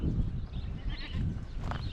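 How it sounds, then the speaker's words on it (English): Goats crowd a street in Loxton, a Karoo village in South Africa, giving bleats over a steady outdoor background, with one clearer call near the end. "there's a traffic jam of goats"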